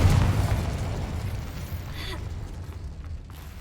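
A Confringo spell explosion in the Hogwarts Legacy video game, a loud booming burst at the start that rumbles and fades over a few seconds, alone.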